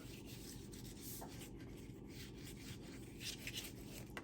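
A bone folder or tool burnishes a cardstock pocket in a series of quiet, close rubbing strokes that repeat steadily over a few seconds.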